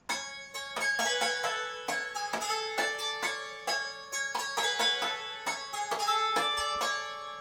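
Bright plucked synth notes in a quick repeating pattern layered over piano chords, playing alone with no voices.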